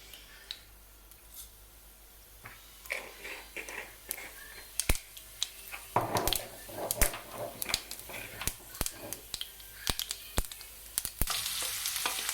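Mustard and cumin seeds crackle and sizzle in hot oil in a pan, a close, busy run of sharp pops and spits that grows denser and louder over a background hiss.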